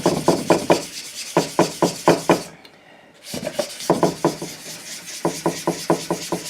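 Rhythmic back-and-forth sanding strokes rasp against a wooden guitar body, close and steady, pausing briefly midway before resuming in quick repeated bursts.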